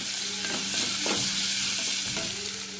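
Cumin seeds and crushed garlic frying in a pan for tomato rasam, a close, steady sizzle with repeated scraping stirs of a spatula against the pan.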